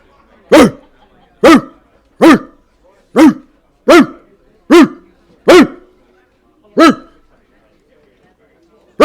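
A dog barks nearby in sharp, evenly spaced single woofs, eight or nine loud barks with short silences between them.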